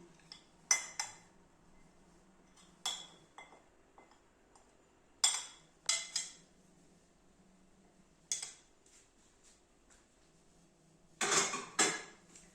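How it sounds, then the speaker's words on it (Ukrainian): Eggs being whisked with sugar in a bowl for Ukrainian Easter paska dough, giving quiet, sporadic clinks and taps of utensil against bowl in short clusters, close by, with near silence between bursts. "Перемішуємо яйця з цукром"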